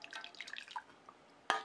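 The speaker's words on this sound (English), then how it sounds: "I like to pour a little bit into the glass to start with." Liquid gelatin is poured in a small amount into a glass, giving faint, brief trickling drips followed by a sharp clink of glass.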